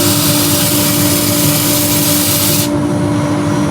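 A wood lathe spins steadily at close range with a loud, continuous whirring hum while a Christmas tree decoration is sanded, the hiss dropping away abruptly near the end.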